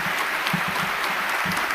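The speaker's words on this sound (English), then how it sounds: "would love to hear a big round of applause for all the rest of our sponsors" Audience clapping for event sponsors at a competition, a steady wash of applause filling the short span at moderate level with no voices on top.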